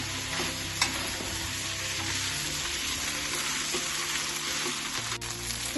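A drumstick leaf and jackfruit dish is stirred in a pan while it cooks uncovered. Up close, a continuous sizzle runs under scraping stirring strokes, with a couple of sharper utensil knocks.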